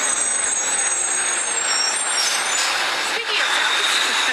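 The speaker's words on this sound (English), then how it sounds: "When you stop and really listen, the city makes a lot of noise." City traffic with trucks fills the air as a loud, continuous wash of engine rumble and road hiss, with no pauses, like heavy vehicles passing close by on busy streets.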